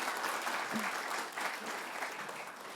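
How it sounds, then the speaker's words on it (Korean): A church congregation at a Sunday service breaks into applause, a soft, even patter of many hands clapping together, heard somewhat distant for a few seconds. "여기서 박수 한번"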